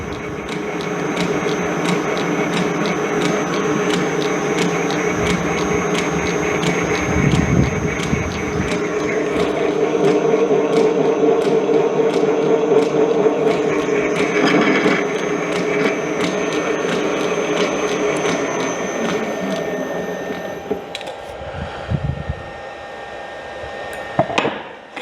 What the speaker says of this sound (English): this will be the biggest hole I've drilled with Barnes. It's 3/4 inch.